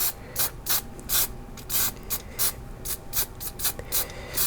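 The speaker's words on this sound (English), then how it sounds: "I just use the matte spray from Boyle, and we just blast it very close" Short hissing bursts from a can of matte spray varnish sprayed very close, about a dozen quick sprays in an uneven rhythm, fairly loud with no talking.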